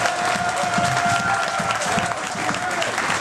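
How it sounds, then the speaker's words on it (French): An audience applauds after a stage performance, with dense, sustained clapping and a few cheers filling the hall while a voice speaks over it. "Si vous avez aimé, applaudissez quand même."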